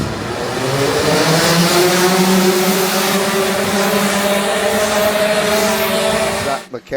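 A pack of racing karts howls away from the start of a kart championship race, their engines revving loud and close in rising, overlapping tones that hold steady before dropping off abruptly at the end.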